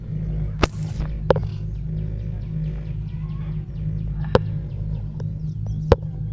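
Ropeway cable car at Srisailam glides along its rope with a low, steady mechanical hum, marked by a few sharp clicks or clanks as it passes over the line, and faint birdsong in the background.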